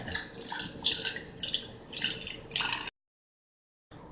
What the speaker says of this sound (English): take the first can of Diet Dr. Pepper, no preference, and you fill it with water